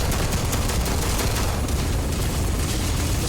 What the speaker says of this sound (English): That's it, Sarah. Shoot his ass.